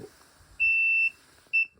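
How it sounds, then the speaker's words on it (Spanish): A 12-volt motorcycle alarm wired to a PIR motion sensor sounds a sharp electronic tone, one sustained beep of about half a second followed by a shorter second beep. "A 12 voltios he colocado esto de aquí, que es de moto, es una alarma de moto."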